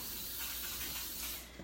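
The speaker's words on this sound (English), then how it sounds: "I use coconut oil spray." A coconut oil cooking spray greases a pan with one steady, close hiss that lasts over a second and fades out at the end, with no talking.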